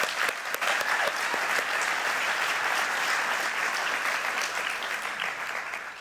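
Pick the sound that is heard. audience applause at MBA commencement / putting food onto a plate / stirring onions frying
audience applause at MBA commencement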